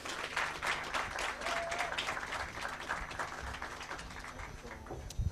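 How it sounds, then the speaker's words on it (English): An audience at a live International Youth Day 2024 event applauds, a steady patter of many hands clapping at moderate distance that carries on throughout. "let's clap for him"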